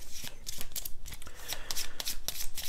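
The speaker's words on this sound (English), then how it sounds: "Give the Altoma deck a good shuffle here." A deck of cards for the Wingspan board game being shuffled by hand, close up, with a quick run of crisp riffling and snapping card sounds repeating steadily, with no talk.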